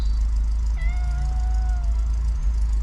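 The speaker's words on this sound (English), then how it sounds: "even Smudge's meow emitted the same sort of steam as the car's exhaust" A cat gives a single drawn-out meow over the steady low rumble of an idling Austin Allegro 1300 Super engine nearby, just started after storage.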